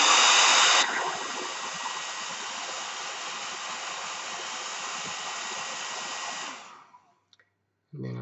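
A hair dryer drying paint on a botanical line drawing, a loud steady whoosh that drops slightly after the first second, runs evenly, then switches off with brief clicks and a short bump at the end.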